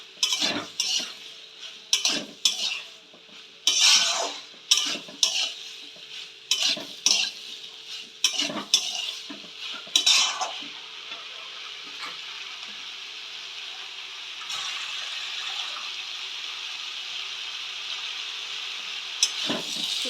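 Vegetables with pre-fried prawns, potato, radish and eggplant, are sautéed in a pan: repeated sharp metal spatula scrapes and clinks over a steady sizzle, with the stirring stopping partway and the hiss continuing alone.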